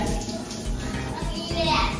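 Hot water from a hotel bathroom shower runs in a steady, close rush, and a voice is heard over it.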